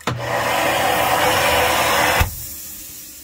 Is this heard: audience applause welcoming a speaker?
no